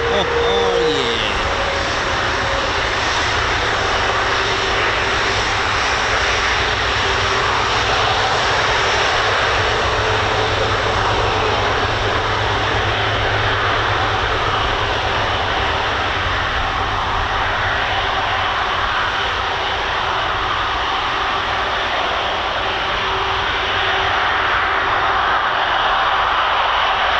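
Lockheed C-130J Hercules turboprop engines at RAF Brize Norton roar loud and steady throughout, a continuous heavy drone with propeller whine, with speech faintly beneath.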